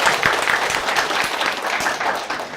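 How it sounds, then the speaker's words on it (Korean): Audience applause breaks out for a chairman at a Korean seminar hall, a steady dense wash of clapping from a sizable crowd lasting throughout, fairly loud and close. "박수 한번 쳐주세요"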